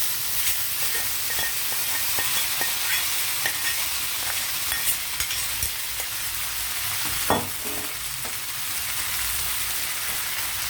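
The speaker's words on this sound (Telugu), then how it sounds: "ఈ తాలింపులో ఒక 2 నిమిషాలు ఇలాగా వేగనివ్వండి, మగ్గనివ్వండి ఆయిల్లో." Garlic and dried red chilies fry in oil as a tempering for a vegetable curry, giving a steady, close, crackling sizzle with a few sharper pops and occasional stirring clicks. No one speaks.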